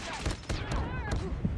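Rapid gunfire from the mobile shooter game Call of Duty Mobile, a burst of sharp synthetic shots with a .50 GS pistol, mixed with game effects while players talk over it.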